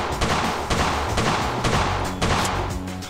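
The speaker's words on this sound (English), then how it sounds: "The Garand has a very interesting way it shoots off its clips." An M1 Garand rifle fires in the gun-simulation game World of Guns, a rapid string of loud, dense reports that overlap into one continuous barrage for a few seconds.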